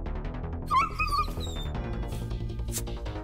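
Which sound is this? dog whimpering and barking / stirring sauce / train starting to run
dog whimpering and barking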